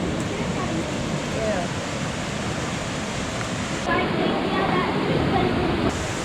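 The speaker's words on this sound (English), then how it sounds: "the more water's gonna be running through the" Rushing water roars steadily through the rocky gorge at Watkins Glen State Park, a dense continuous wash of white noise with no pauses and no voices.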